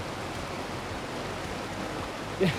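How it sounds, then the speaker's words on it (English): Small rapid known as Niagara Falls in the Catlins, New Zealand, giving a steady broadband rush of flowing water that holds evenly throughout, with a brief louder splash near the end. "I am currently standing in front of one of the world's smallest waterfall, the Niagara Falls New Zealand version."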